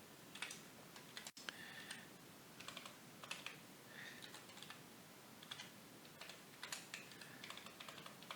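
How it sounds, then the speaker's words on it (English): A BASIC program is typed on the keyboard of a C256 computer: steady, close-up clicking keystrokes arrive in quick irregular bursts with brief pauses, and no voices. "I'll just go ahead and start typing in the program"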